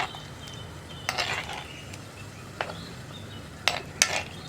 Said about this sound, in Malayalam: ഒന്ന് ഇളക്കി കൊടുത്തിട്ട് അടച്ചു വയ്ക്കുക.